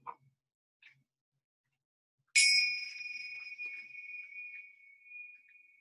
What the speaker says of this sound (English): you'll hear the bells ring.